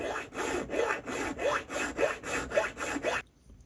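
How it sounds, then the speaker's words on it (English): A hand file rasps back and forth across a seam on the main body of an HO scale steam engine kit, about eight steady rhythmic strokes close to the microphone, then stopping abruptly. "So I'm just going to start by filing that as flat as I can."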